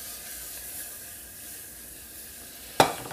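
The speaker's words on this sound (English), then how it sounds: "We're gonna let it sizzle on down." A soft, steady sizzle of butter hisses from a pan, ending with a sudden sharper burst of crackling.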